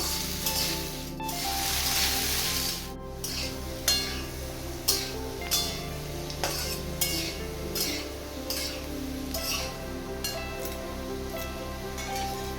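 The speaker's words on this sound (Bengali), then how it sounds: "কেটে রাখা আলুগুলোকে তেলের মধ্যে ছেড়ে দিলাম।" Cut potatoes frying in hot oil in a pan, a steady sizzle running throughout with a series of sharp clinks and scrapes from stirring at regular intervals.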